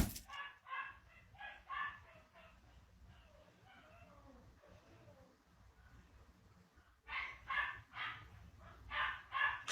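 An 8-week-old puppy cries in high, repeated whimpering yelps, clustered at the start and again near the end, with quieter low noise in between.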